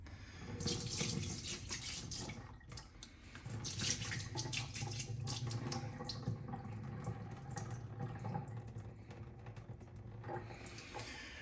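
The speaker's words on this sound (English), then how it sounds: "We are going to rinse all the water out from the beef." Tap water runs into a kitchen sink while raw beef is rinsed under it, a continuous splashing stream with shifting spatters and drips, fairly close and unaccompanied by speech.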